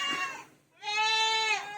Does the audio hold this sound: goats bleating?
yes